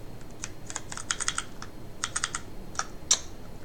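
Keystrokes on an Ultimate Hacking Keyboard, a split mechanical keyboard, come in short, irregular bursts of crisp clicks, fairly close and alone with no talk.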